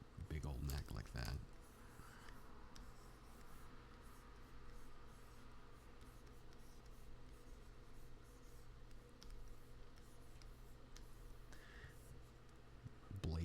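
A pen scratches and strokes across paper in a quiet room, faint and continuous, with a few sharper taps and someone talking over it.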